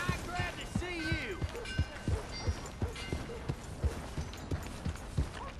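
Steady horse hoofbeats clop along at a walking pace in the video game Red Dead Redemption 2, evenly spaced thuds with a few faint voiced calls mixed in over a busy town background in Valentine.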